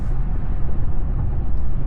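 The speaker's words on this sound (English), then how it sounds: "I hear more of the wind noise, you know, from the windows more than anything" Steady rushing wind noise, mostly from the windows, fills the cabin of a 2025 Chevy Silverado pickup while driving, a constant low roar with no talking.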